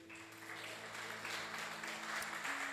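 Church congregation applauding in worship: steady, moderately distant clapping from many hands, rising slightly and continuing throughout over a low sustained tone.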